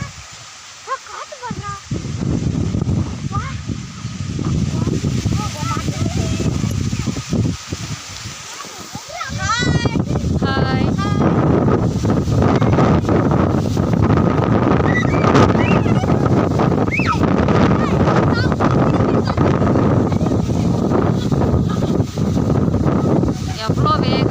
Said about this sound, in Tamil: காற்று பயங்கரமாக வேகமாக வீசிகிட்ருக்கு.